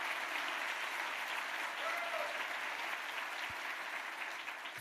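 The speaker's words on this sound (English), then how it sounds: "Let's have a round of applause for all of them." At a mayor's State of the City address, a crowd gives the city's snow team a steady round of applause, even and sustained, with a faint voice underneath.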